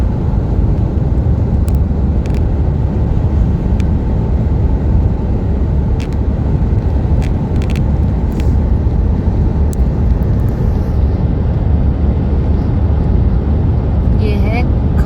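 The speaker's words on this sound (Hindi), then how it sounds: "सुबह से बस ट्रक्स हैं और एक हमारी गाड़ी है।" A car cruises along the Jabalpur–Nagpur highway among trucks, with a steady, loud roar of road and wind noise. Faint higher clicks and a brief horn-like tone come near the end.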